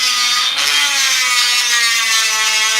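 A Dremel rotary tool grinds steady and loud on exhaust valve parts during a Subaru WRX/STI valved exhaust install, a continuous high-pitched whine with a slight pitch shift early on and no talking.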